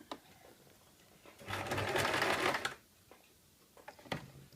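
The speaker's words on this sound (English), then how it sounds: "So we'll just sew that up" A sewing machine stitches the binding and waistband of a circle skirt in one steady burst of about a second in the middle, with quiet room noise before and after.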